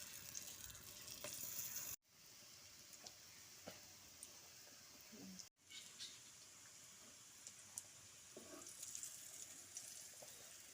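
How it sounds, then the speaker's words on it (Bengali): Dhoka lentil cakes fry in hot white oil in a pan, giving a steady, quiet sizzling hiss with scattered crackles. The sound cuts out briefly twice. "গরম তেলে ধোকাগুলো এবার একে একে দিয়ে দিচ্ছি।"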